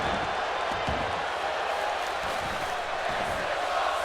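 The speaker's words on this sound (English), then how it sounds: "The crowd loving the action here in Monday Night Raw." Arena crowd noise from a WWE 2K25 wrestling game, a Monday Night Raw women's match, a steady roar of cheering that holds at a constant level for the whole stretch.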